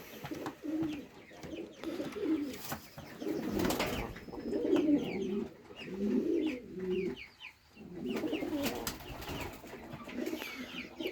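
Pigeons coo softly in a dovecote in repeated low, rolling calls, several birds overlapping at close range, with faint chirps in the background.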